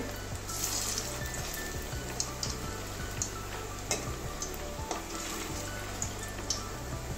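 Continuous hot-oil sizzle with scattered pops and crackles as banana flower fritters fry in a pan, close and steady, no talking.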